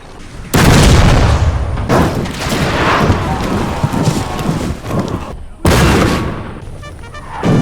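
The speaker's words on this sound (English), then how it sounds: "The Russians were devastated by the cannon fire, but they continued to stand their ground." Heavy booming cannon blasts from Napoleonic artillery in a Total War battle game, several in quick succession, loud and close, rumbling over a continuous din of battle with a sharp restart near the end.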